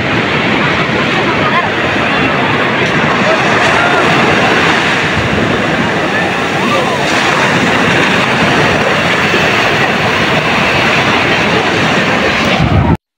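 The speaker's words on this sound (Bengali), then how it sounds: "আপনারা খালি সামান্য ঢেউ দেখেন আসলে কেমন।" Sea waves at Cox's Bazar beach roar in a continuous, loud wash of surf with wind buffeting the microphone throughout.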